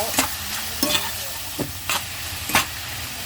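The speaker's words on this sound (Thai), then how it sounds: "คลุกเขาให้เขาเข้ากันให้หอมค่ะ" Meatballs and mixed vegetables being stir-fried in a pan, with a steady sizzle broken by a few sharp, scraping stir strokes at irregular intervals, close and clear, no talking.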